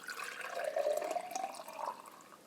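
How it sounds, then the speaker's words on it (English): Chai tea concentrate is poured into a mason jar in a close, steady liquid stream that lasts a couple of seconds. "And so then I just like to pour mine into a mason jar."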